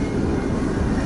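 A Norfolk Southern eastbound extra freight train on the Harrisburg line in Pennsylvania roars past up close in a brief, loud, continuous rumble of wheels and cars.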